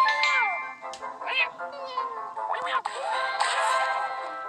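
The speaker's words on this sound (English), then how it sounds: "Shut up, Simon's cat" A cat meows repeatedly in rising and falling cries, close and fairly loud, with a few short gaps between calls and no speech over it.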